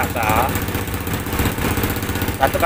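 Honda Grand motorcycle engine started and running steadily nearby during electrical testing of the CDI and stator coil, a continuous mid-pitched chug, with a voice speaking over it.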